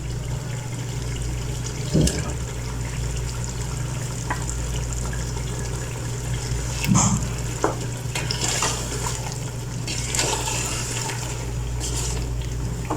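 Tomatoes cooking in a pot for chicken chana pulao give a steady, loud background sizzle and bubble, broken by a few stirring knocks and scrapes.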